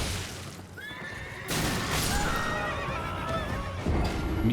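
A horse in the video game Elden Ring gives a long, shrill whinny that wavers up and down over a steady ambient bed, with light hoof clip-clop in the mix.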